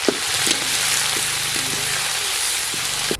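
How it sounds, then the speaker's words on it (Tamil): Mustard seeds, dried red chilies and curry leaves fry in hot oil for a tempering, a continuous close sizzle with scattered sharp pops and crackles throughout. "கடுகு நல்லா பொரிஞ்சிச்சு வரமிளகாய் சேர்த்துக்கலாம் வரமிளகாய் நல்லா பொரிஞ்சிச்சு கருவேப்பிலை சேர்த்துக்கலாம்"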